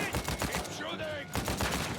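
Rapid bursts of gunfire crackle through a firefight in Uncharted 4: A Thief's End, loud, close and nearly continuous, with a short lull in the middle before the shooting picks up again.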